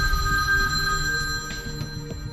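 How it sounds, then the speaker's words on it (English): A telephone rings with a steady electronic bell tone that carries on throughout, set against a low background hum and a few faint knocks and clicks. "Then, he kept ringing Melissa's sister."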